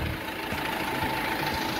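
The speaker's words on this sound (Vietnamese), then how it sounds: "với cái tiếng động cơ này thì không ít anh em sẽ nhận ra nó là động cơ gì rồi" Diesel engine of a Do Thanh IZ65 Gold 2.4-ton light truck idling steadily, a continuous low rumble with a faint hum, close by and without talk.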